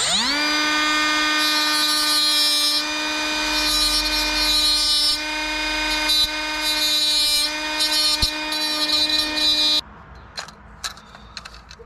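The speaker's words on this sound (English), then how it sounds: "We're just going to take the little whiz wheel here and notch the plastic." A small whiz wheel rotary tool notching a plastic part, with a loud, close, steady high-pitched whine and rough grinding shifts while cutting, then it stops and a few faint clicks and handling noises follow.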